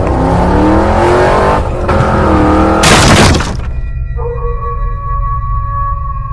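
A motorbike sped up hard in a dramatized Hindi story, a loud vehicle roar that ends in a brief crash-like burst, then fades into a steady high tonal hum.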